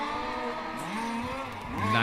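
Race cars pulling out onto the track at the start of a practice session in the 2025 Race Car Series at Velp, a continuous engine drone with rising revs and a louder pass near the end.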